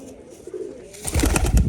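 A pigeon coos softly and low at a Giribaz pigeon loft, then a louder burst of rustling and fluttering takes over near the end.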